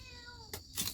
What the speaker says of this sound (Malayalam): ഓ മീനിൻ്റെ മണം അടിച്ചിട്ട് പൂച്ച